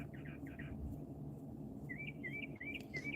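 Birds chirp nearby, a quick burst of repeated short chirps followed by a series of clear, higher whistled calls over a steady low background hum, with no talking.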